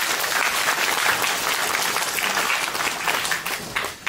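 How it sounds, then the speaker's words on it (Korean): Crowd clapping at a Korean book concert, a full continuous burst of applause that thins and fades toward the end. "여러분들 큰 박수로 환영해 주십시오"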